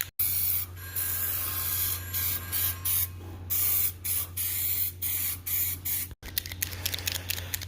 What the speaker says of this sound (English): we can spray the graphite on them